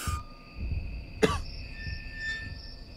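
A single short cough sounds near the middle, set against a quiet horror game's ambient drones and tones.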